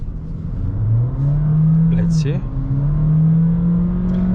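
A 2022 Honda HR-V 1.5 e:HEV hybrid's petrol engine drones steadily from inside the cabin, a loud continuous hum that rises in pitch midway, with a brief spoken comment over it.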